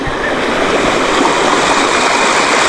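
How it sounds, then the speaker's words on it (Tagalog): Strong floodwater rushing through a creek after heavy rain has washed out a bridge: a loud, steady, broadband roar of turbulent water, close and continuous throughout, with no voices heard. "Lakas ng ragasak ng tubig kasi, kaya ano, natangay sa ano, agos yung tulay."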